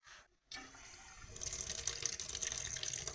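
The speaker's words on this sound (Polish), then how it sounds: "Dodajemy do tego troszkę wody, troszeczkę wody. I dolewamy do tego wody." Water is poured into a pan of pork neck, starting abruptly after a brief pause and running as a steady, close splashing hiss that grows fuller toward the end.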